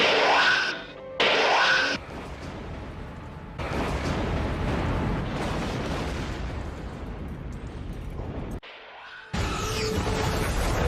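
A loud, sustained roaring blast with crackling debris rumbles on for several seconds, broken by brief gaps, like an exaggerated cartoon explosion.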